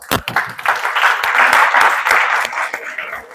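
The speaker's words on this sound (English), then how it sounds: "give yourself a round of applause" A university audience at a Christmas presentation claps after a quiz answer, a short, moderately loud round of applause with individual claps standing out near the start and end.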